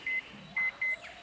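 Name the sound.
beeping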